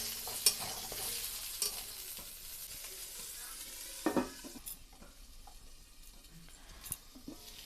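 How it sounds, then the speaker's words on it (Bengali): Pointed gourd (potol) frying in oil and being turned over in a pan, a low hiss of frying under occasional scraping and light clinks of the utensil, faint and close. "পটলগুলো একবার ভালোভাবে নেড়ে চেড়ে দেবো একদম হালকা আছে পটলগুলো ভাজতে হবে"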